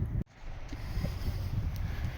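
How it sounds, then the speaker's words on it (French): Wind blowing outdoors in the Fontainebleau forest, a steady rushing roar buffeting the microphone, broken only by a brief dropout near the start, with faint rustling over the gusts. "le vent se lève"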